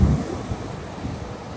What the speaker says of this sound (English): I could see that the waves come up over this hump